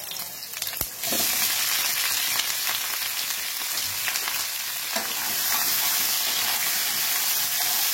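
Panch phoron, a Bengali five-spice tempering, frying in hot oil, with a steady loud sizzle and crackle that swells after the first second and keeps going, no talk over it.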